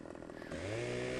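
Chainsaw in Farming Simulator 15 on the Bjornholm map, idling with a rough putter, then revving hard into a steady loud whine as it bites into a log, close and alone.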